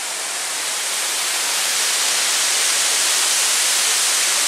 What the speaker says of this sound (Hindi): पहले झरना देखो